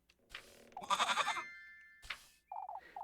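Goat bleating in a video game, several wavering, nasal bleats close by with short silent gaps between them, alone with no talking over them.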